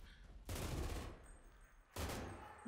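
An MG42 machine gun in the World War II shooter Enlisted fires two sustained, buzzing bursts, the first longer and the second short, loud and close with no talking over them.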